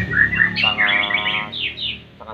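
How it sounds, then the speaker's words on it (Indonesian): A green leafbird sings a run of bright, whistled chirps and warbling phrases, close and fairly loud, with a brief pause before a final short note. "Namanya burung kayak nama orang ini Boris nih"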